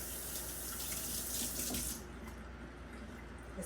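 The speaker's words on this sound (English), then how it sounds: "my conscience tells me I need to at least rinse" Running tap water at a kitchen sink while rinsing food, a steady close hiss of the flow that drops in level partway through as the stream is interrupted or redirected.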